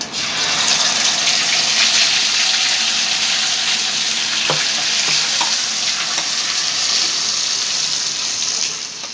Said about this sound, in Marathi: जिरं, कढीपत्ता, हिंग टाकून घेते मी आणि हे वाटप मी त्यामध्ये टाकते.